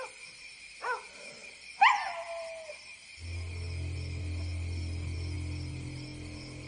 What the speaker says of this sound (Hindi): इतना क्यों भौंक रहे हो? लगता है पूरे गांव को जगा दोगे।